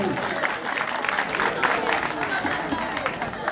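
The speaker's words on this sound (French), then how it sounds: "Applaudissez pour vous." An outdoor crowd at a book and arts festival in Samatiguila gives sustained applause, a thick, even wash of clapping throughout with faint crowd noise mixed in.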